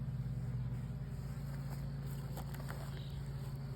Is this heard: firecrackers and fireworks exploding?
no